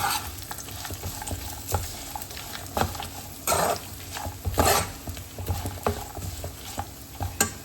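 A tempering of grated coconut for puliyogare fries and sizzles in a pan while a spoon stirs it, giving a steady crackle broken by repeated scraping knocks of the utensil against the pan, close by.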